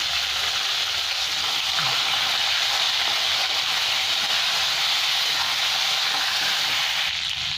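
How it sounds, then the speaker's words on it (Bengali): Chunks of eggplant and potato coated in salt and turmeric frying in oil, producing a steady, close, hissing sizzle throughout, with occasional faint stirring knocks. "এবার খুব ভালো করে লাল লাল করে ভেজে নেব"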